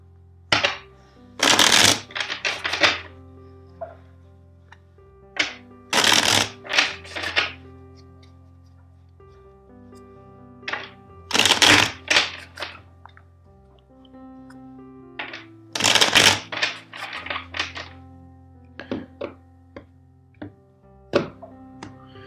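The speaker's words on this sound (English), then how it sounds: "First, let's shuffle the deck four times for you." Several bursts of tarot cards being riffled and shuffled, each a rapid flurry of crisp flaps followed by a soft tap, with quiet pauses between.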